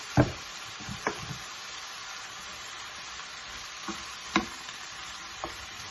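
Chicken fried rice sizzles quietly in oil in a pan, a steady soft hiss broken by a few faint knocks of a utensil stirring.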